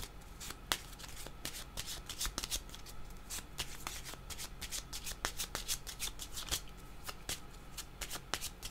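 A deck of tarot cards is shuffled by hand, producing a quiet, close run of rapid riffling clicks and flutters that repeat steadily throughout.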